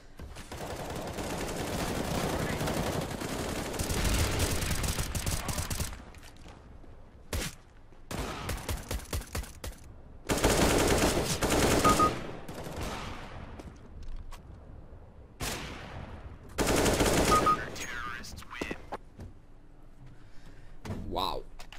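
Counter-Strike: Global Offensive gunfire comes in several loud bursts of rapid shots separated by quieter gaps, with single sharp shots mixed in.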